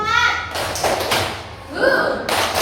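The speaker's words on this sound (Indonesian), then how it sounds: "biar kita tetap semangat, kita tepuk semangat terlebih dahulu." Schoolchildren in an Islamic religious education class do a rhythmic spirit clap, patterned thuds and claps in quick sets that are loud and close, with children's voices mixed in.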